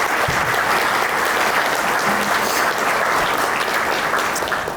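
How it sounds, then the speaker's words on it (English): A morning civic-address audience applauds visiting guests from Freeport, Illinois with loud, steady clapping that fills the whole stretch and eases slightly at the end. "Let's give them a round of applause, please, for joining us here this morning."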